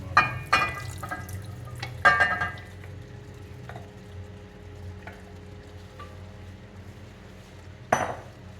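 Cooking liquid from boiled tinda (apple gourd) goes into a pot of chicken curry. There is faint splashing and trickling, a few sharp metallic clinks of a utensil against the pot, and a low background hum.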